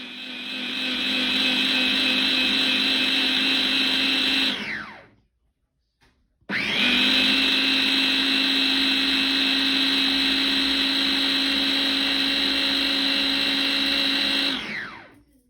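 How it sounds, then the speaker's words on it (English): A Nutribullet baby steam and blend system blends pears in two loud, steady whirring runs of about four and eight seconds, each with a rising start and winding-down fade, separated by a short silent pause. "Here it is blending, and you're going to hear it in a minute."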